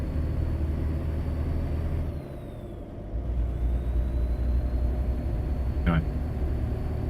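A truck engine in a trucking simulator game drones steadily at low pitch, dipping briefly as if shifting before the rumble picks back up, with a short hiss near the end.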